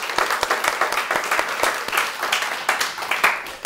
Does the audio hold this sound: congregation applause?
yes